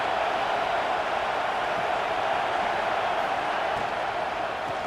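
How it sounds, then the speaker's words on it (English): Steady, dense roar of a large stadium crowd at a college football game in a video game, a continuous wash of cheering and murmur with no breaks or distinct voices standing out. "Listen to the crowd energy here in the early going."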